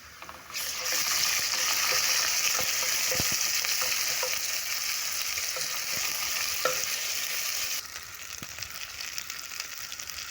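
Onion, ginger and garlic fry in a pan with a steady, dense sizzle, broken by occasional sharp clicks of stirring, and the sizzle drops slightly near the end.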